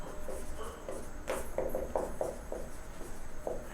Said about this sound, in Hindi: तो लिखेंगे हम